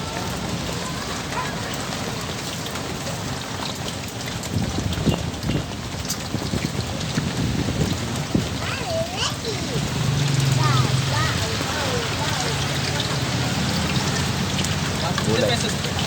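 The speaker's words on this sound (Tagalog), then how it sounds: "Maulan po, malakas ang hangin," Rain falls steadily with strong wind, a constant hiss of drops on surfaces mixed with gusty rumbling wind noise, while a person speaks intermittently nearby.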